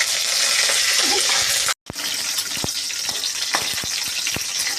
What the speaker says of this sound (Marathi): त्याच तेलामध्ये मी थोडी वांगी परतून घेणार आहे